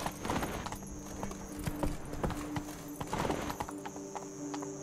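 Roach, a horse in The Witcher 3 game, gallops with rapid rhythmic hoof clip-clops repeating at a steady brisk pace, fairly faint, alongside a soft whinny.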